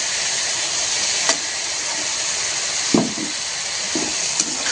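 Onion and tomato sautéing in oil in a pan for a Marathi village-style bhuga, a steady broadband sizzle with a few soft stirring scrapes and taps, close and continuous, no voices.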